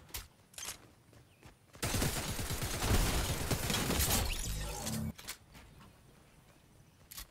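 Gunfire in the video game Fortnite breaks out as a dense burst of shots lasting about three seconds, framed by a few sharp clicks and quieter game sounds.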